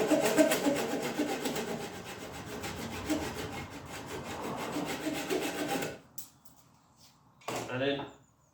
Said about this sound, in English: I'm just going to use my Japanese saw here to take off the excess.